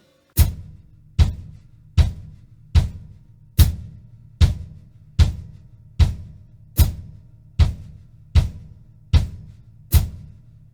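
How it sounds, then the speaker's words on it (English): Bass drum on a drum kit struck on steady quarter notes, thirteen even, punchy, close thumps with short decays, played alone without any talking. "Our bass drum, we're still going to play on all 4 quarter notes."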